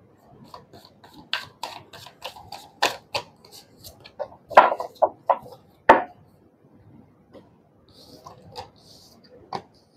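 Tarot cards drawn and laid out in two rounds of three, giving a string of crisp, close slaps and soft rubbing sounds that are loud at first and then thin out into sparse taps.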